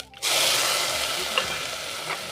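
Tomatoes hit frying onions in a pan and a loud, steady sizzle breaks out close by after a brief quiet start, then holds with a few small clinks and stirs.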